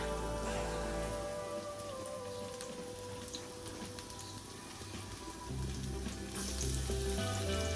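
Garlic frying in hot oil with dry curry leaves for dal, a dense, crackling sizzle like rain, steady throughout with a low hum beneath.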